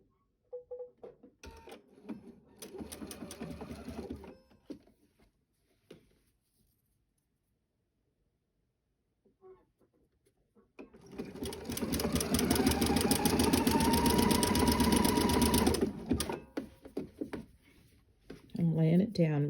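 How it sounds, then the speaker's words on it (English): Sewing machine running a zigzag stitch along the edge of lace for underwear: a few faint handling sounds and quiet taps first, then a loud, steady few seconds of close needle chatter before it stops. "I'm laying it down right on the edge and giving it a nice zigzag stitch."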